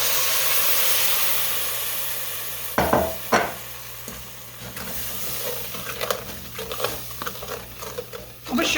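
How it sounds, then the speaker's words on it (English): Milk being stirred slowly into browned flour in a pan, with soft scraping and gentle sizzling over a steady hiss and a few louder clinks near the end. "I have 4 cups of milk here. So I'm going to go ahead and stir this in slowly."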